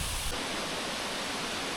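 Water from Sangbay Heragsak Falls in Sigay, Ilocos Sur, surrounded by green mountains, pours down in a steady, loud, unbroken rush of white noise heard up close.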